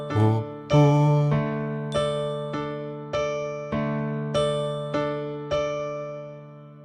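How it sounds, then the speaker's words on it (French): A bell in a French children's phonics song, heard as a melodic run of clear chime notes, struck one after another in an even rhythm, each ringing out and fading before the next, with no voices. "Il sonne la cloche, il sonne la cloche"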